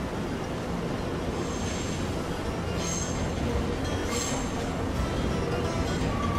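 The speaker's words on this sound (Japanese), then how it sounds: "いよいよ私たちの乗る電車が来たようです。" A Nankai Southern limited express train arrives at Namba Station, rumbling steadily close by, its wheels squealing in faint high-pitched bursts, with a dense, continuous mechanical roar throughout.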